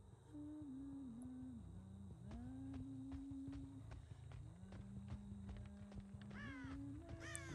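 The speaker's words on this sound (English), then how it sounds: "Birds in the distance." Crows caw in the distance in the video game Dead by Daylight on a farm map, a few sharp calls near the end over a low droning tone and a steady ambient background, with faint clicks.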